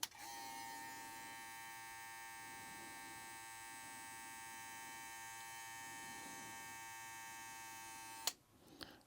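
A BaByliss x Tomb 45 clipper with a brushed motor runs steadily, giving a constant electric buzzing hum for about eight seconds before a click cuts it off, recorded close up and alone.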